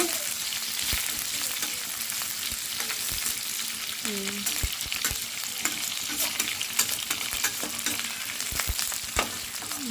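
Vegetables for homemade veg noodles, including cabbage, sizzle hard in a pan over a high flame, with a steady hiss broken by frequent scraping and clinking stirs of the utensil.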